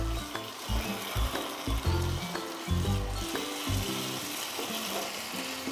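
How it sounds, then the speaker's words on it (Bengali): Tomato paste sizzles in a pan while a Bengali rui fish kalia cooks, already holding well-fried onion. A steady frying hiss runs under irregular low clatter and background noise. "টমেটোটা দিয়ে আমি একটু বেশ কিছুক্ষণ কষিয়ে নিলাম।"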